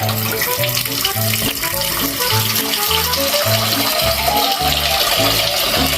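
Water pours from a tap into a pot for broth in a home kitchen, a steady close gush with a rhythmic low clatter of kitchen sounds. Nobody talks.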